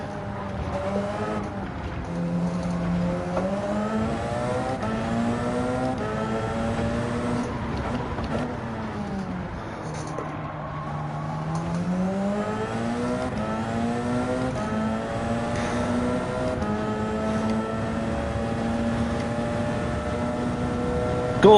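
A Gr.1 race car engine in Gran Turismo 7 howls continuously in an online sprint race, revving up and down through gear changes and lifting off briefly before accelerating hard again, loud and close throughout.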